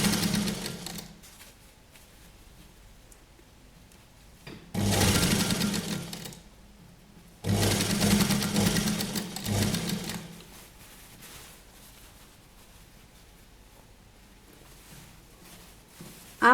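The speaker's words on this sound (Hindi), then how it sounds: "बहुत आराम से आप इसे रखें और सिलाई लगाएं।" A sewing machine stitching elastic onto a children's Patiala dress hums softly, then bursts into two loud, rapid runs of stitching a few seconds long, with quieter machine noise between them.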